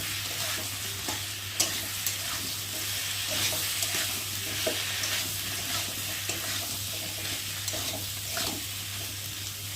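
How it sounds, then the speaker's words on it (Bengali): Chili powder with ginger and cumin paste stir-fried in a pan for a soybean curry. A loud, continuous close sizzle runs throughout, with scraping stirring strokes and no talking. "লঙ্কার গুঁড়ো আর আদা বাটা, জিরে বাটা দিয়ে একটু ভালো করে কষিয়ে নেবো"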